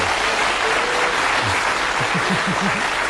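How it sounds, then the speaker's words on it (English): A studio audience at the Bullseye game show claps loudly and evenly throughout, a dense wash of applause with a few low musical notes underneath toward the end. "Give him a nice warm applause"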